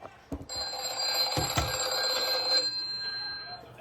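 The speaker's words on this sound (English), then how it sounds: "Hold on, my phone's ringing." A telephone rings nearby with a steady, bright electronic tone for a couple of seconds after a few soft knocks, then fades to quiet.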